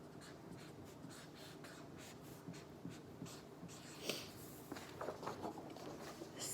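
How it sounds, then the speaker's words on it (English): Marker or chalk strokes scratch steadily across a board during a simple math game, a continuous run of faint, close scraping with a few louder squeaks toward the end. "Let me write that bigger."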